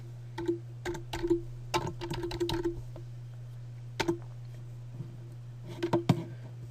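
Bursts of typing on a computer keyboard: quick clusters of crisp key clicks with short pauses between them, heard close over a steady low electrical hum, with no talking.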